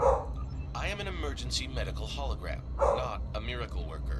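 A household dog gives a couple of brief background barks beneath a computer-like character voice from the game Star Trek Online.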